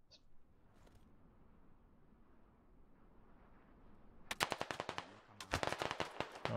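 Gunfire in a first-person shooter game arrives as two loud bursts of rapid automatic shots after a few seconds of quiet ambient background, with no talking.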